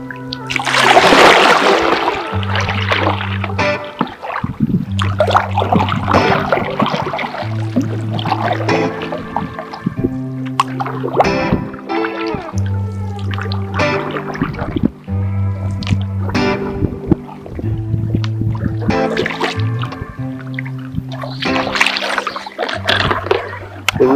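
A canoe paddled on the Congaree River in Congaree Park makes repeated soft splashes and drips as the paddles dip in a steady rhythm, while people talk on and off throughout.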